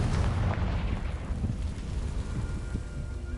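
A Confringo fire-blast spell erupts in Hogwarts Legacy with a loud, deep rumbling explosion that rolls on and slowly fades over a few seconds, no voices.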